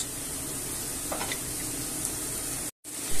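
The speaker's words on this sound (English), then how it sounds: "I'll add the sausages in as well. And just leave them there to cook a little bit." Hotdog sausages fry in a pan with a steady, close, moderately loud sizzle and a few stirring scrapes, broken by a brief cut near the end before the sizzle resumes.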